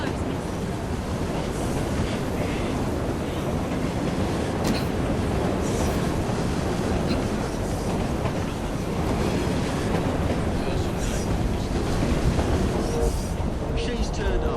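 Steady clattering rumble of a moving train in the video game Assassin's Creed Syndicate, with rhythmic rail noise continuing throughout, close and fairly loud, under intermittent speech.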